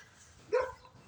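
A puppy barks once outdoors, a single short yap at moderate distance over faint background noise.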